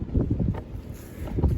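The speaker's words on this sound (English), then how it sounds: "It's a little bit windy up here" Wind gusts across the top of a small mountain in Southern Virginia on the Appalachian Trail, a steady low rumbling buffet against the microphone that swells and eases, with no talking.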